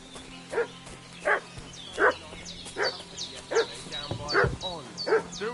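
Dog in the Kingdom Come Deliverance 2 video game, barking in a steady rhythm of short, sharp yelps with whimpering between, about eight barks, fairly close, over a quiet ambient background.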